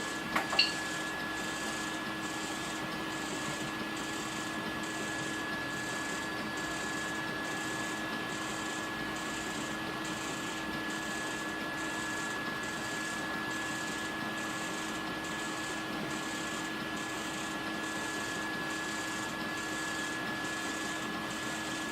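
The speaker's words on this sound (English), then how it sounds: "my fluids are just screwed up on feeding my filament. It's grinding my filament instead." A 3D printer's extruder grinds filament instead of feeding it, giving a steady mechanical whir with a regularly repeating high-pitched pulsing pattern, near and continuous, with a brief knock at the start and no speech.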